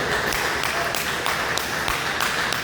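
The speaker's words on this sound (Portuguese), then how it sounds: "Palmas para Jesus." Church congregation applauding together, a loud, dense and steady wash of many hands clapping with a faint rhythmic pulse throughout.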